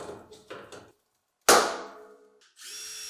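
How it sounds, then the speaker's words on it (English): A power drill drives screws while fastening an adapter onto a dust collector cyclone in a woodworking shop, short whirring bursts, then a sharp loud impact and a high sustained whine, close by with no talking. "The adapter can now be screwed to the cyclone and sealed with silicone."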